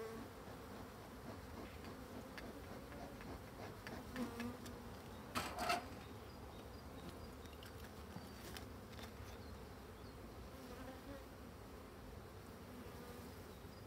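Black honeybees buzz continuously around an open hive in a soft, steady drone, with occasional faint knocks in the background.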